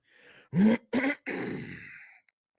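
Someone clears their throat in a few rough, forceful bursts, close and fairly loud, ending in a drawn-out raspy exhale.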